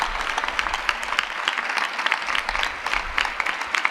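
Loud, sustained applause from a large audience honouring the guru at a Gurupurnima festival at Tirthdham Sardhar, with sharp individual claps and some low rumble throughout.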